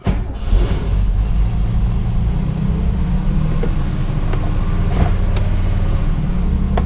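A 1961 Mercedes-Benz 220Sb W111 cruising through a neighborhood, its engine giving a steady, close low rumble with a faint road roar and no talking.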